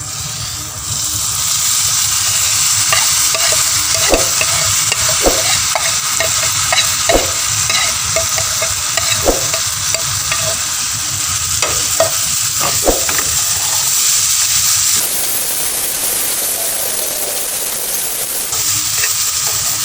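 Grated apple and semolina roast in a pan for apple halwa, with a steady sizzle under repeated close scraping stirs; a brief rush of louder hiss rises near the end, and no one speaks.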